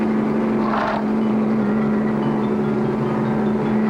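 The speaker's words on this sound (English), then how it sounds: "It's an armored car. It's headed right for the bank." An armored car in a cartoon Western town drives toward the bank, its engine a steady, fairly loud drone with a constant hum running throughout, and no voices over it.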